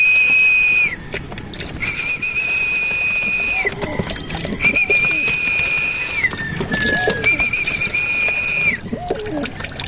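Racing pigeons return to a loft during a 56-kilometre training flight, with a repeated steady whistle tone and soft bird sounds over a continuous outdoor background.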